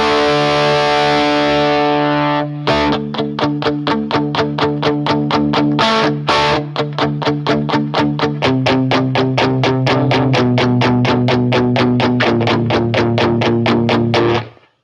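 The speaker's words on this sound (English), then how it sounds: "If I turn the guitar volume all the way up," Electric guitar fitted with a Sixpence, played at full guitar volume through a ToneX amp model. It gives a sustained distorted chord, then fast, even strummed or picked chords with gritty drive, loud and alone throughout.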